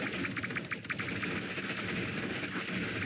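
Rapid automatic gunfire crackles through a competitive team shooter match at a LAN qualifier, dense and continuous bursts layered over a constant wash of game noise and explosions, loud and unbroken for the whole stretch.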